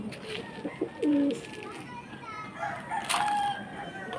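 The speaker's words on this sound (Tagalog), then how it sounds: "Mga kalapati." Pigeons coo softly amid a busy outdoor bird chorus, with a louder call rising briefly over steady background noise.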